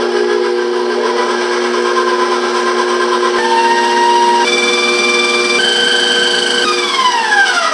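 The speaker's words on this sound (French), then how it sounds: "Je vais commencer à brasser tranquillement." Flour and cake batter for a Creole cremasse cake being stirred with an electric mixer, a loud steady whine whose pitch steps up and down as the speed changes, with no talk.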